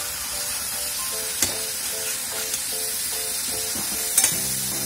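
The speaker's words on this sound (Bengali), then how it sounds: "ভালো করে অনেকবার করে ঢেকে ঢেকে মশলাটা কষাতে হবে" Masala sautéing in a pan for mocha chingri, with banana flower, prawns and potato: a continuous close sizzle and hiss, broken by a few soft scrapes and knocks of stirring.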